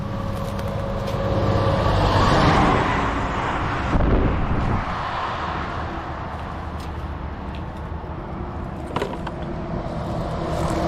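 Cars passing loudly on a road during an outdoor litter clean-up, a broad rushing swell of traffic that peaks and fades, with further vehicles going by and some wind buffeting on the microphone, no talking.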